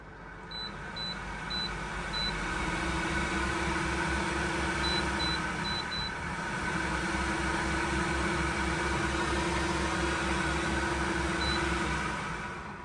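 Extractor fan above the cooker in a Coachman Laser Xcel caravan, running as a steady, even broadband whoosh with a low hum underneath, continuous throughout with a few faint electronic beeps early on.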